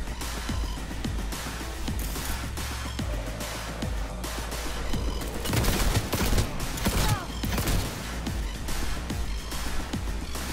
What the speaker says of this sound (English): Do some pistol action.